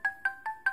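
Alarm tone from an Asus Pegasus 2 Plus X550 phone: four short, evenly spaced electronic beeps, each a steady pitched tone with harmonics, fairly quiet and close, with no talk.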